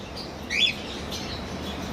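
A pet bird in a breeding pair's cage lets out one clear, bright chirp early on, followed by fainter high calls over a low steady hiss.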